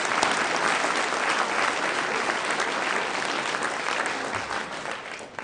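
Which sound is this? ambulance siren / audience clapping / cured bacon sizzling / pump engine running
audience clapping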